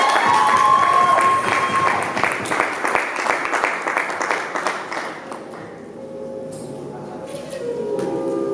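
Audience applause and cheering at a youth awards ceremony, dense and loud for several seconds, then thinning out and dying down as the room quiets.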